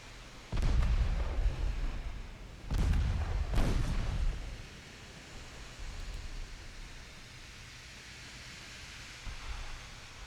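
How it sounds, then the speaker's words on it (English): Heavy 15-inch naval shells from a warship battle game, fired at a destroyer: three deep, booming blasts in the first four seconds, each with a rumbling tail, then a low wash of ambient rumble with a faint distant thump near the end. "Which one of you is firing 15-inch shells at a destroyer?"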